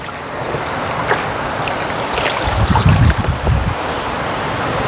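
Water and sand churned by hand in a tub of a buoyancy separation device, a continuous sloshing, swirling wash with a louder burst of low splashing turbulence midway, no voices.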